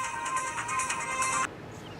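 A mobile phone ringtone plays as a bright, steady electronic tone under a hushed room for about a second and a half, then stops abruptly, with no talking.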